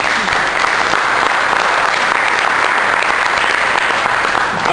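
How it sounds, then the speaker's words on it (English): A large audience applauding itself at an evening talk, a dense, continuous wash of clapping that stays loud and even throughout, with no individual claps standing out. "Please go ahead and clap for yourself."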